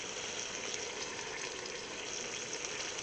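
Canned diced tomatoes sizzle in a hot pan, a dense, even hiss heard close and fairly quiet, with no voices.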